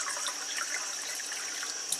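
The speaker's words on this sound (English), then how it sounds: "now I'm gonna collect one glass of kangen water" Kangen water poured from a tap into a glass, a steady bright splashing and trickling stream that stays even throughout, close and fairly quiet, with no talking.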